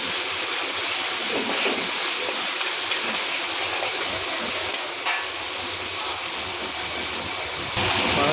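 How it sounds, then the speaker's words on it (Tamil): Onion and tomato sauté with ginger garlic paste in a pan for a dried anchovy sambal, a dense continuous sizzle with occasional stirring scrapes, close and loud, no speech. "வெங்காயம் தக்காளி வதங்கிட்டு இஞ்சி பூண்டு பேஸ்ட் கொஞ்சம் போட்டுக்கலாம்."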